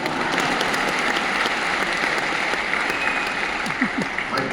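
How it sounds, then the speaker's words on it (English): A large audience at a talk claps in a steady, sustained round of applause with a faint murmur of voices underneath. "You can clap."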